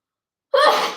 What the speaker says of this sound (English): I want to sneeze badly